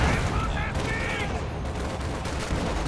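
Heavy mortar fire and battle noise in the video game Company of Heroes 2, with dense booms and gunfire rumbling continuously over a loud, cluttered soundscape and some voices mixed in.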